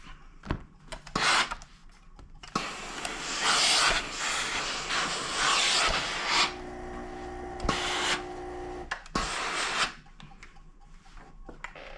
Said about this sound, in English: But we want to give it a good steam.